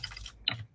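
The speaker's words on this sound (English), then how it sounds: "I'm going to type in" A few quick soft key taps on a computer keyboard while typing a web address, faint and close, two small clusters within under a second.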